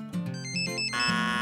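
A mobile phone ringtone plays a short bright electronic melody of a few clear notes, steady and moderately loud, with no talking, in a museum etiquette setting for children.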